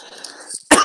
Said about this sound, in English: I've been fucking coughing like crazy.